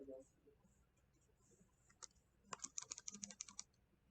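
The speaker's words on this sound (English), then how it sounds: "I'm typing too fast." Quick bursts of typing on a computer keyboard while setting up a printer: a few scattered clicks, then a rapid run of crisp keystrokes, close and fairly quiet.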